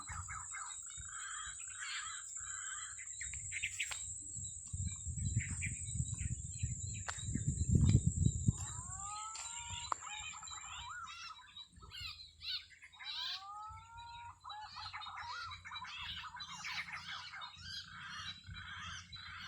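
Birds call and chirp over a long stretch of outdoor ambience during bulbul trapping in Aceh. Repeated short sweeping calls and scattered squawks come over a steady high insect drone, with some low rumbling in between.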